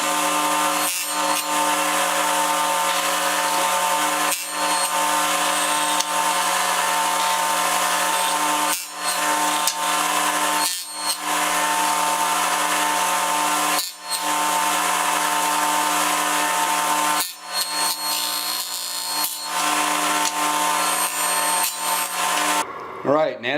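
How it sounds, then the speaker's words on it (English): A table saw rips channels into wooden top bars for Langstroth beehive frames, a loud continuous whine and cutting roar held nearly throughout with a few brief dips between passes, then stopping at the end. "So we're going to make one pass, move over 1/8 of an inch with our fence, make another pass"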